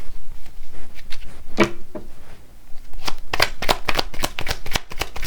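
Tarot cards being handled and shuffled, a run of crisp papery flicks and snaps, sparse at first and then quick and clustered, close and fairly loud with no talking.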